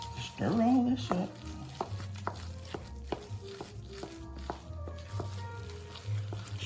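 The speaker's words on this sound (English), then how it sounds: "And we'll stir all this up." A spoon stirs cornbread dressing seasoned with sage in a bowl, giving soft scraping strokes and scattered clinks in a steady rhythm, close and fairly quiet, with a brief burst of speech near the start.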